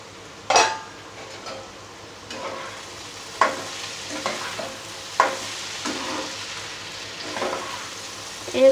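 Egg and potato fry in a pan, a steady sizzle under repeated scraping stirs and a few sharp clinks of a spatula against the metal, close and fairly loud with no talking.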